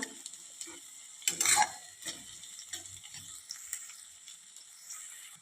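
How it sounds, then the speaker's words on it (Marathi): Chopped onion and two finely cut green chillies being sautéed in a pan: a soft sizzle with intermittent scraping stir strokes and one louder clatter early on, fairly quiet overall. "हिरव्या मिरच्या घालून चांगलं परतून घेऊया"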